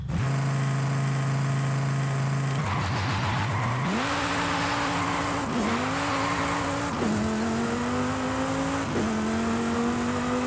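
A GTA Spano supercar's engine revs hard in Forza Horizon 5, loud and close, with a steady idle drone that jumps into rising, gear-stepped acceleration pulls and brief tire chatter, no talk over it.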